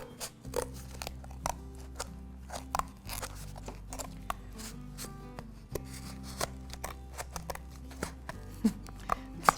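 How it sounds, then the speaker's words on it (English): Scissors cut across a sheet of paper for a classroom camera art craft, several close crisp snips and crunches over a quiet steady hum. "Close my scissors and then cut all the way across."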